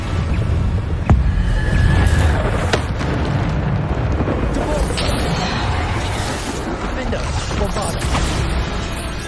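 Blasting-spell explosions erupt in the video game Hogwarts Legacy during a Deathly Hallows trial, with dense rumbling booms and crashes layered over one another. A player talks loudly throughout.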